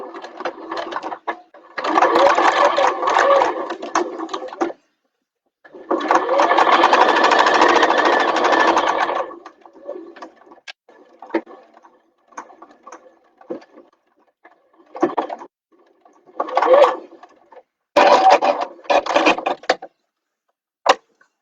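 Sewing machine stitching a bag lining gusset, running in several bursts: two long stretches of steady whirring stitching, then shorter starts and stops with quieter gaps between.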